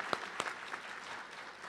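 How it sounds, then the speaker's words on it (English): Audience clapping at an awards luncheon, a couple of sharper claps up front and then a steady, moderate patter of hands filling the room without voices. "Big round of applause."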